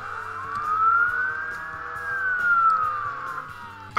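A police car siren in the Roblox Jailbreak video game wails in a smooth rise and fall, loud and steady over a low engine drone, ending with a sudden thump.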